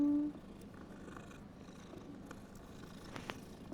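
A cat purring in the Hogwarts Legacy video game, a low steady rumbling purr, close and quiet, with a faint brief chime from the game near the end.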